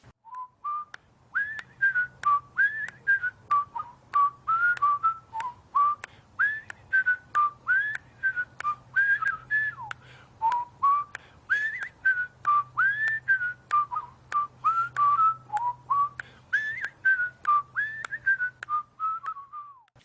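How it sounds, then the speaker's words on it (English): A man whistles the bouncy, cheerful Andy Griffith Show theme in a clear, steady stream of short melodic phrases, close and alone, for the whole stretch. "he was whistling the tune"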